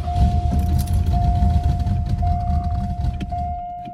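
A 1981 Ford LTD Crown Victoria two-door barn find cranks and tries to start after fuel is poured down the carburetor, giving a loud, rough, continuous churning rumble with a steady tone that fades slightly at the end.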